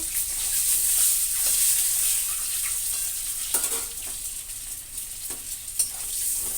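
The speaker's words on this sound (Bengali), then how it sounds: "এবার সেই তেলের মধ্যে ডিম দিয়ে দিচ্ছি দেখো ডিমটা একটু লাল লাল করে ভাজা হয়" Eggs fry in hot oil with a bright, steady hiss up close and occasional spatters and pops, with no one speaking.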